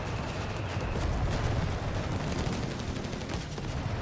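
Machine gun fire in Company of Heroes 3, a World War II strategy battle: a continuous, dense rattle of rapid shots over a heavy rumbling battlefield, steady and loud for the whole stretch.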